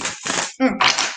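A deck of cards is shuffled in a few quick riffling bursts, close and crisp, with short gaps between the flurries of flicking cards.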